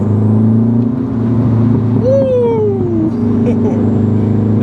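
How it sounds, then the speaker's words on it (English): A Renault 5 Turbo, a classic French hot hatch, sends a rising then falling turbo whistle over its steady engine drone, clear and close for about a second amid continuous road and motor noise. "listen to that turbo whistle"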